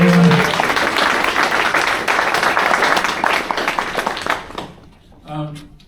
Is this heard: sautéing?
no